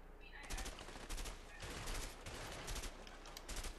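Sustained video game gunfire from a cooperative shooter, rapid repeated shots and bursts filling the scene at close range, loud and dense throughout.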